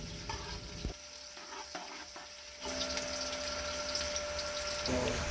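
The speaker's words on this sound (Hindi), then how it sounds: "अब एक अदद प्याज हमने कटी हुई इसमें शामिल कर देनी है और प्याज को थोड़ी देर तक हमने भूनना है" Chopped onion fries in oil in a pot. A soft sizzle with a few clatters opens, then a louder, steady frying hiss swells and carries to the end.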